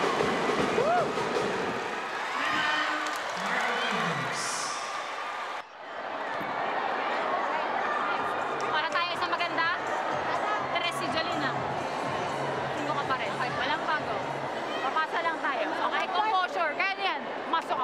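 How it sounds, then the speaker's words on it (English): A crowd roars and cheers at a 2023 PVL Invitational Conference women's volleyball match between F2 Logistics and Cignal HD Spikers, a loud arena swell under an excited commentator's voice. "What a crowd!"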